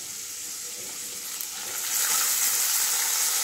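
Cashew nuts and raisins frying in a pan for upma, a steady close sizzle that swells louder and brighter partway through.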